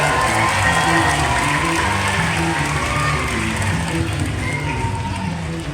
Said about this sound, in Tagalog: akin na pong ipapakilala sa malakas ng palakpakan na may kasamang hiyawan